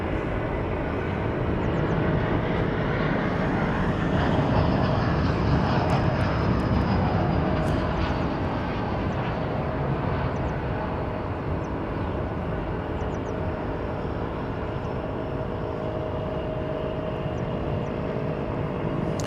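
A continuous loud drone of a Martinair airplane's engines near DFW Airport, steady and broad, persisting without pause for the whole stretch.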